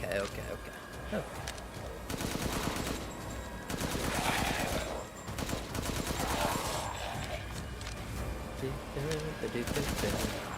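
Rapid gunfire from the Resident Evil Village video game, bursts of shots repeating across the span amid game effects and music, with someone talking over parts of it.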